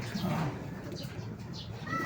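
Soft racing pigeon cooing in a low, throaty murmur, fairly quiet, with faint background noise and a hint of distant voices.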